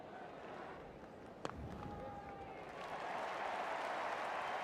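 A cricket crowd at Melbourne applauds a young batsman reaching his fifty after two boundaries. A sharp knock is followed by a broad, steady wash of distant clapping and crowd noise that swells louder toward the end.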